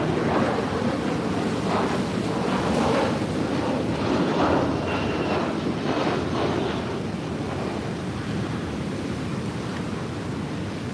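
Ocean surf at Currumbin on the Gold Coast, Queensland, where a creek drains into the sea; steady wash of waves breaking nearby with gusty wind buffeting the microphone throughout.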